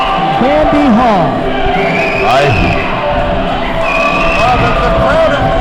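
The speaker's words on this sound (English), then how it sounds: "The crowd, it's almost deafening, the sound from the crowd right now" Loud, roaring crowd at a women's wrestling arena during a championship match, with yelling and bellowing voices over a sustained wall of noise that stays dense across the whole stretch.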